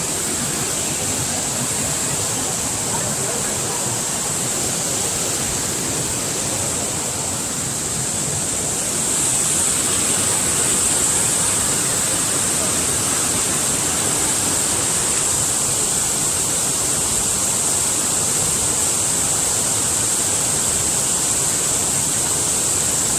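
A river waterfall with bathtub-sized potholes below its top step, a loud, steady rushing roar of falling water that fills the scene without pause, heard up close with no voices.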